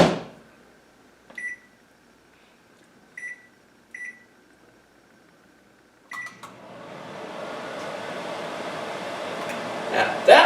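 A microwave oven heats butter in a bowl: a few short electronic beeps sound over a low hum, then a steady, fairly loud whirring drone runs continuously to the end.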